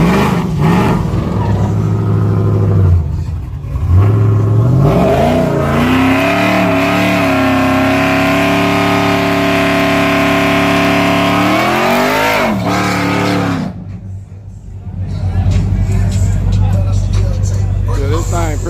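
A turbocharged OBS pickup truck with a cammed LS engine revs loudly at a dragstrip, its exhaust rising and falling through several surging pulls before a brief dip and a renewed roar, with people talking over it.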